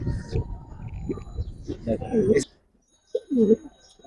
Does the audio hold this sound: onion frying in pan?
no